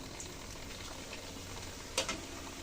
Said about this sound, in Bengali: বন্ধুরা এভাবে আমি বাকি লুচিগুলো ভেজে নিচ্ছি।